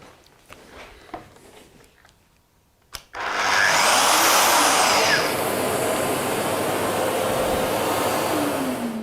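Festool SSU200 sword saw switched on after a few quiet knocks, then running with a loud steady motor whine and hiss that rises briefly and holds at a constant level close by, with no talking.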